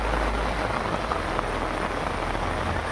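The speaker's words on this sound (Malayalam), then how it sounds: "അടിപൊളി മഴ" Heavy rain pours down without pause during flooding, a dense hiss of drops striking a surface, with no voices over it.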